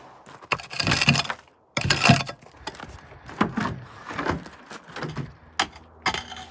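A stuck door, its angle shifted by frost-heaved permafrost ground, being forced open: repeated loud bangs, scrapes and knocks in bursts of wood and metal strain, close by with no talk.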